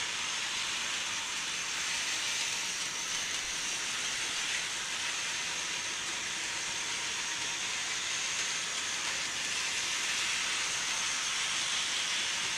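A Highland Rambler model train runs continuously on its track, producing a steady, even whirring hiss with no pauses or voices.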